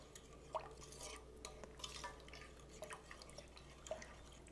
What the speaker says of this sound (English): So now I'm just stirring that around.